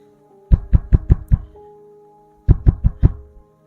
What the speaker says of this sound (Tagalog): Kumakatok yon sa pintuan ng kubo.